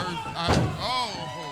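A wrestler's shoulder block in a ring lands as one short, heavy thud in the middle of the moment, with a voice talking under and after it.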